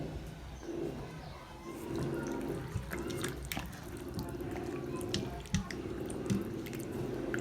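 Water splashes and drips as chicken pieces are rinsed in vinegar and salted water and handled in a sink, with scattered clinks and sloshes over a steady running-water hiss.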